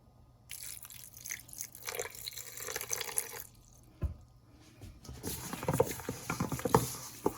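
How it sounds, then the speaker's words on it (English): Water poured into a hot pan of frying chicken for orange chicken, a quiet hiss and crackle rising into busy sizzling and popping spatter that grows louder toward the end. "I'm gonna hit it with a little more water."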